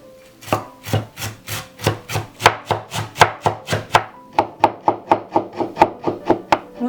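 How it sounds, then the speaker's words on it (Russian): A knife chops fresh cilantro on a wooden board in steady, rhythmic strokes, about three per second. The close, crisp thuds carry a faint rubbing scrape and pause briefly midway before resuming at a slightly quicker pace. "А сейчас нарезаем кинзу."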